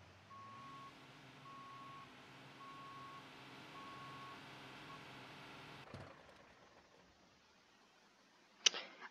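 Fire engine backing up during a truck-fire call, its reversing alarm sounding as a steady run of evenly spaced beeps over idling engine rumble, followed by a sharp clunk near the end.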